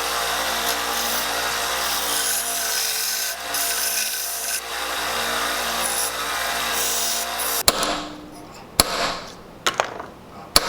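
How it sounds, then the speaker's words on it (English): A wooden fishing lure being sanded by hand, with continuous close rasping strokes for most of the clip, followed by a few sharp knocks and short scrapes near the end. "Time to sand."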